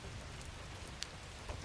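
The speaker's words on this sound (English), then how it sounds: "Just this moment and the soft sound of rain." Soft, steady rain falls outside on a cozy night, a continuous gentle hiss with a couple of faint isolated drips standing out against the even patter.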